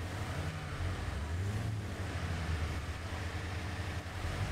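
An off-road vehicle in the video game Expeditions fords a river. The engine gives a low, continuous rumble with some wavering pitch, and water churns and splashes around it at a steady level.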